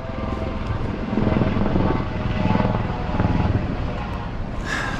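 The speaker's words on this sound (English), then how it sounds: "Oh wow, there's a helicopter." A helicopter flies overhead near the Kalalau Trail in Hawaii, its loud, close rotor chop and engine roar swelling and easing in a rhythmic pattern, with no voices over it.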